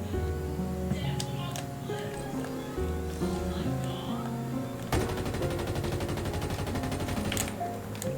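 Rapid automatic gunfire in Halo Infinite Forge rattles steadily over game music, sustained bursts hammering at objects until they break, growing denser and louder midway, with no talking.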